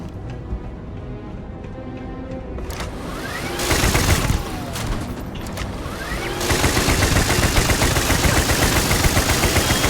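An automatic gun sprays in Starfield, loud sustained bursts of rapid fire that intensify partway through and continue heavily to the end, with no talk.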